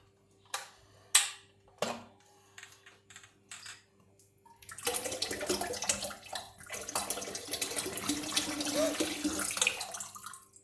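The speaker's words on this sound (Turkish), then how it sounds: "şimdi suluğumu getirdim. Bunu dökelim." Water poured from a water bottle, a steady splashing gush that starts midway and runs continuously to the end, preceded by several sharp plastic clicks and knocks of handling.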